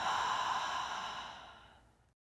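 One long breath let out through an open mouth during a beginner yoga arm routine, a soft airy whoosh that starts full and fades away over about two seconds, close by and alone.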